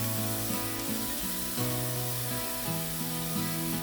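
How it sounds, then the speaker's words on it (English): Vegetables sautéing in a pan for a fall soup seasoned with chili powder, giving a steady close sizzle with light hissing crackle throughout. "you're just going to saute these up till they begin to tender, but you still want them to be crisp"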